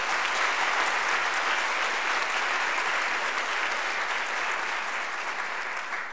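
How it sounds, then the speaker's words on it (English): Sustained audience applause for distinguished panelists at a film festival event, dense steady clapping from a crowd that holds for several seconds and tapers only slightly near the end. "can we just give one more round of applause to the distinguished panelists tonight?"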